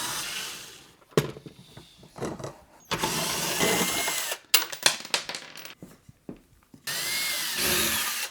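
Power drill backing screws out to remove the legs from a wooden dining table, several whirring bursts separated by short pauses and clatter, close by.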